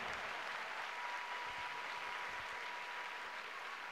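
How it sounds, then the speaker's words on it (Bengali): Students at a school annual exhibition and celebration break into loud, sustained applause, a dense and even wash of clapping that continues without pause from start to finish. "ছাত্রদের বলবো খুব জোরে একটি অভিনন্দন জানাতে হবে, হাততালি দিয়ে"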